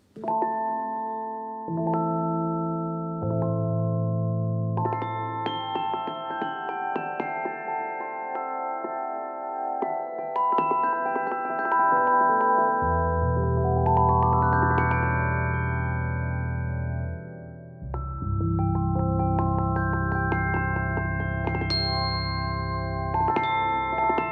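Shimmering tones from Frozen Glock, a sampled glockenspiel virtual instrument, ring out in slow, overlapping notes over sustained low chords, forming a soft, continuous melodic passage with no talking.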